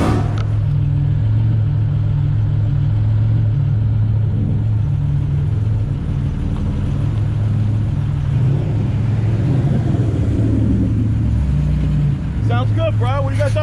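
A car engine revving hard during a pull, a loud sustained droning roar that climbs and holds, with voices talking over it near the end.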